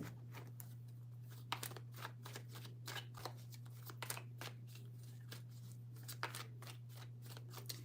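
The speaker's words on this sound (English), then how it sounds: "Three shuffles." Tarot cards shuffled by hand in a series of quick, crisp riffles and slides. The bursts come close and clear over a steady low hum, with short pauses between them.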